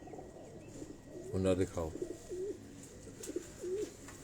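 Pigeons coo on a rooftop in a low, rolling murmur with a short burst of louder sound near the middle, while someone talks over them.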